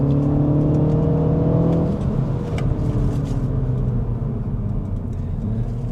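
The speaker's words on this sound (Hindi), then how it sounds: "ये एग्जॉस्ट नोट अच्छा इसलिए साउंड कर रहा है क्योंकि थोड़ा स्पीकर से भी पाइप इन हो रही है ये आवाज़" A 2026 MINI Cooper S at night gives a steady droning exhaust note while driving, revs climbing then dropping back to an even rumble, close and fairly loud with no talking.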